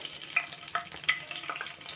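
Two bay leaves drop into hot oil for a kaju paneer curry, starting a soft close sizzle with a few sharp crackles and pops over two seconds, with no voices.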